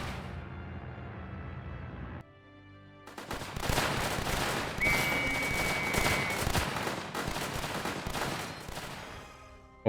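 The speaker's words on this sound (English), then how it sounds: "What's that mortar?" Mortar blasts and rapid gunfire in the WW2-themed Northend Tower Defense game, with dense bursts of shots and booms that go on for several seconds after a short lull.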